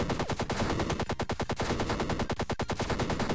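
Rapid machine-gun fire from a Starfighter R&D space combat game, a loud continuous burst of tightly spaced shots lasting several seconds with no voices.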